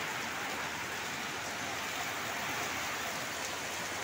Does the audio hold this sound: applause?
no